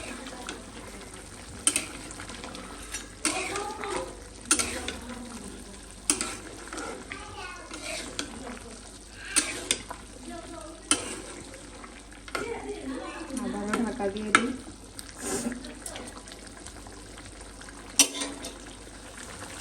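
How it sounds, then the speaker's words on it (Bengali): Meat being stir-fried (kasha) in a pan as it starts to stick at the sides, repeated spatula scrapes and knocks over a low sizzle, close, with someone talking at times. "তো এই যে আমার মাংসটা কিন্তু কষানো হয়ে আসছে লেগে লেগে যাইতেছে সাইড দিয়ে"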